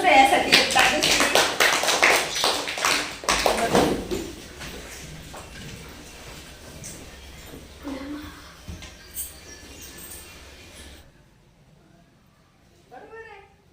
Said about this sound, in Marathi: हा टाळ्या जर श्रेयासाठी एकदा दिसली.